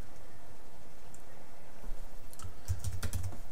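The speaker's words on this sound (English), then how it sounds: "Type in blog" Computer keyboard typing, a short burst of keystrokes in the last second or so after near silence, close and fairly quiet, with no talking.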